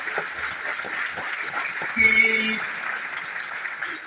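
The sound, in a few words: audience applause for a mountaineering team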